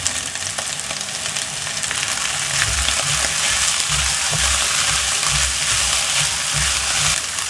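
Shredded chicken tipped into a pan of frying carrots and potatoes, a steady broad sizzle with soft stirring and scraping thumps underneath, moderately loud and continuous.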